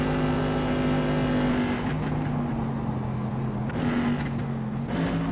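Race car engine in a sim-racing game at Le Mans on the Mulsanne straight, a sustained loud droning roar with steady harmonic tones that shift as gears change, briefly dipping and rising again, with no voices.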